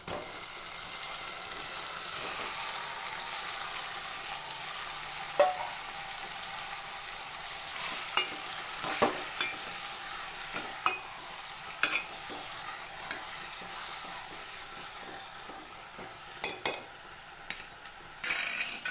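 Onions and tomatoes sizzle and fry steadily in a pan, with occasional scraping and stirring clinks from a utensil throughout.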